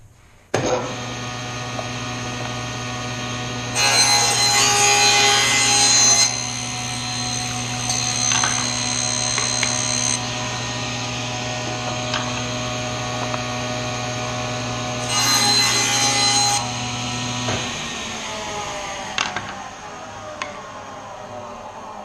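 A table saw with its blade set about a quarter inch above the stock makes passes through wooden box workpieces. The motor hums steadily, and two louder bursts of cutting rise and fall before the blade spins down.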